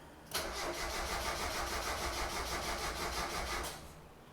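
A Mazda Miata NA engine cranks continuously without catching, a steady rhythmic whirring starter churn of about three seconds that stops abruptly, close and loud with no talk.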